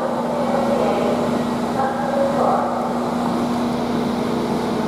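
Northern Class 195 diesel multiple unit departing York station for Blackpool North, heard as a loud steady engine drone with a persistent low hum and broadband rumble throughout.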